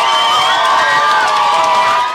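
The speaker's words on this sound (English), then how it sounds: "as the crowd in Vienna erupted, so did the living room in Nandi" A large crowd in Vienna roars and cheers as Eliud Kipchoge finishes the marathon, a loud, dense and unbroken wall of shouting and whooping that holds at full strength throughout.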